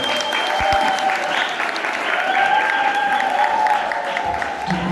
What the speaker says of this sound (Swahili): Makofi kwa kijana